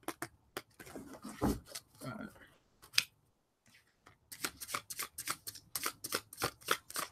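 Cards are riffled and shuffled in quick repeated bursts close by, with a person talking in between.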